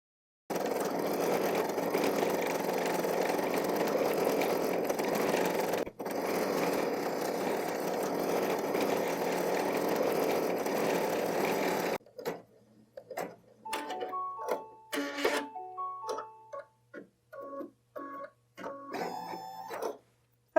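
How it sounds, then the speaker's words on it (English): An embroidery machine stitches an Easter bunny in-the-hoop design with a steady, close, whirring hum. Partway through, the running stops and gives way to sparse clicks and thin beeping tones. "Now we're going to sew the rest of the design up to the last color."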